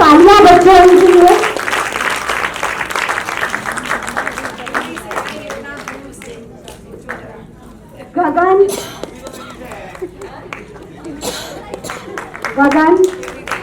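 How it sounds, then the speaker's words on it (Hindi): Applause for children at an NGO charity event, scattered clapping from a crowd that starts after a voice and rises and falls, with people talking over it and some clinking nearby. "जोरदार तालियां बच्चों इनके लिए।"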